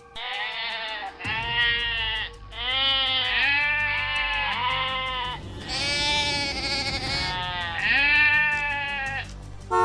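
Sheep bleat loudly and close by in a series of wavering calls, several overlapping in quick succession with short gaps between them, over a low steady background rumble.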